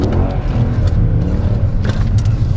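A Mercedes-Benz C63 AMG with 477 horsepower accelerating, a deep, loud, continuous engine roar heard from inside the car with stability control switched off.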